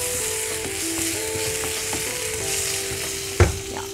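Ginger and garlic fry in a pan with a steady, close sizzle under a faint tonal hum, and a single sharp clank sounds near the end.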